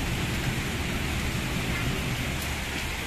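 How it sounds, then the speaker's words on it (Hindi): Heavy rain pours steadily and loudly as a dense, continuous roar with no breaks, with a deep rumble underneath that suggests thunder; no one speaks. "कितनी भयंकर वाली बारिश हो रही है आप देखिए"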